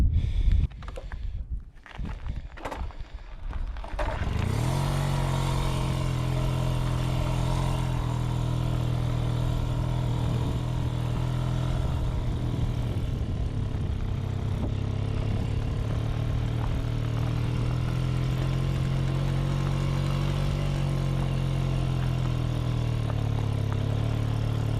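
An old Motobécane Mobyx moped, unused for over forty years, idles steadily with a low, even engine drone after a few sharp clatters at the start, running continuously and close by.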